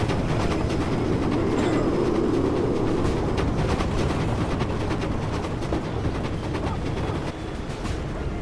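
Train rumbling along in the real-time strategy game Command & Conquer Generals, a loud continuous rolling roar with rhythmic clickety-clack from the wheels, steady throughout and easing slightly at the end.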